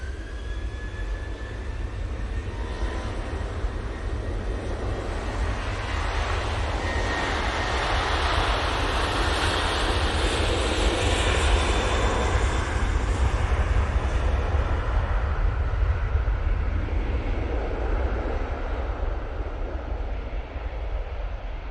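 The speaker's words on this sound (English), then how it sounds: "Well, we're going to ignore that Ryanair taking off." Ryanair jet taking off from Manchester Airport, a long sustained engine roar with a broad rushing hiss that rises and slowly fades over about twenty seconds, heard alone.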